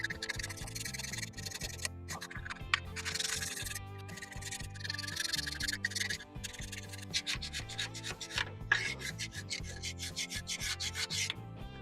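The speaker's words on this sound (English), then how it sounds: "So while I was scraping my gasket off," An old gasket being scraped off a tractor water pump, heard as continuous close-up rasping and scratching strokes in uneven bursts with short pauses between them.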